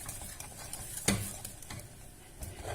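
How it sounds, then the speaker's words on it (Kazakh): Pudding mixture stirred in a pot after the gas is turned off: quiet scraping strokes with one sharper knock of the utensil against the pot, faint and close. "Газды өшірсек те араластырып тұру керек."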